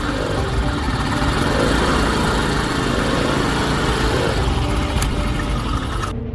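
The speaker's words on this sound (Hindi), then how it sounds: "उन्हें एक बाइक की आवाज़ आती है" A steady, buzzing motorbike engine runs loud and close, droning continuously without pause, then cuts out abruptly at the end.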